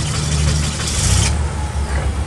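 A 2006 Yale GLP040SVX short-wheelbase 4,000 lb pneumatic-tire forklift engine runs steadily nearby, a loud continuous mid-pitched idle with a brief hissing burst partway through.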